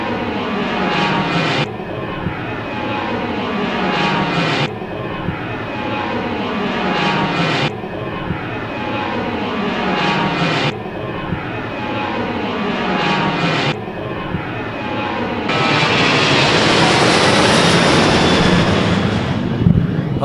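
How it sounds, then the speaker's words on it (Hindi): A Boeing 737-800 jet takes off from Darbhanga airport, its engines roaring loud and close in a sustained drone that swells into a brighter, more forceful blast toward the end. "विमान जे छै से उड़ि चुकल छै दरभंगा से"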